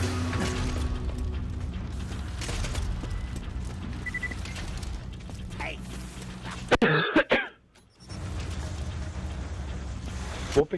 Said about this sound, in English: Whooping cough.